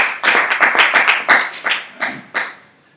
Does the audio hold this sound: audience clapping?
yes